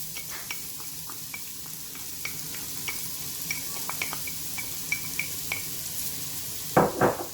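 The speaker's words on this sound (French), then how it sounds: "après avoir fait revenir mon riz, je rajoute mes vermicelles" Rice and vermicelli fry over fairly high heat in a pan for rice pilaf, a soft steady sizzle with scattered light scrapes and taps of stirring, then a louder clatter near the end.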